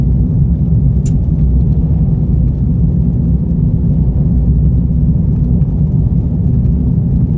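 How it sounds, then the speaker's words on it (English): A loud car with a straight exhaust pipe and no muffler, a steady close rumbling drone that holds without a break, with no voices over it. "without a muffler, a car is damn loud"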